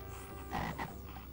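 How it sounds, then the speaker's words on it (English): Cartoonish frog croak from a farm scene in the video game Barney's Hide & Seek, a single short burst rising over steady background game music, with no talking. "A frog."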